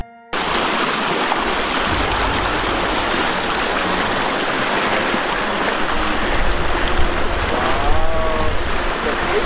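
Water pouring steadily from the outlet of a homemade ram pump, a loud, continuous close-up rush that swells slightly toward the end.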